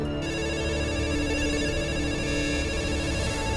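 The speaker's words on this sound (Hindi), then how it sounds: "राहुल के फोन पर लगातार घंटियां बज रही थी" Phone ringing without pause, an electronic ringtone of steady tonal chimes filling the whole stretch at an even level with no voices.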